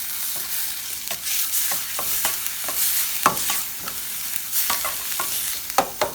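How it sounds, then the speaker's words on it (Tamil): Prawn thokku with masala being stirred in a pan: repeated scraping strokes at an irregular rhythm over a steady frying sizzle, close and fairly loud, with no voices. "மணம் வர வரைக்கும் கிளறணும்."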